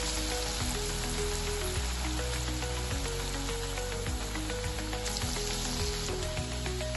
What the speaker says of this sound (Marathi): 2 मिनिटं आपण असे तळून घेणार आहोत.